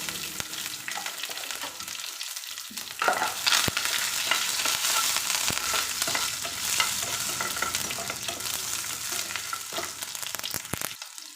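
Shallots sizzle steadily in hot oil with mustard seeds and curry leaves for a sambar, a close, continuous frying hiss broken by occasional scrapes of stirring.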